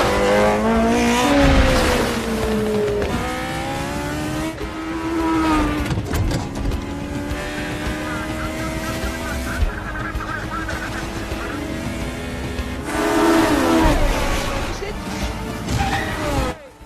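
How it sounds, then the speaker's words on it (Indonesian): Race cars speed through a racing scene, engines roaring and whining up and down in pitch, loud and continuous with swelling passes, while a voice talks over them. "Han melaju dengan cepat,"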